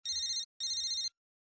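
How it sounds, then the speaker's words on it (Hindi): Electronic phone ringtone trilling in two short bursts separated by a brief gap, clear and close, with no voices. "मेरा दी का फोन होगा, देखो ना।"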